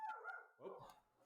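A dog gives a couple of short, faint barks and yips, heard in quick succession and fairly distant, with no talk over them.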